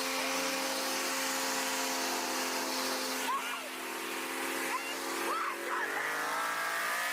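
A supercharged Coyote Mustang race car roars and accelerates at a distance, a steady high-revving drone with rising pitch sweeps, while crowd noise murmurs alongside.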